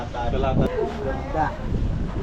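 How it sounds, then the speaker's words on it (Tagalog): Strong wind buffets the microphone at a seaside private resort, rumbling in uneven gusts while people talk close by. "Lakas ng hangin."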